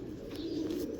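Low murmuring coo from a Gutt breed pigeon, near and quiet, a single drawn-out call with a couple of faint chirps above it.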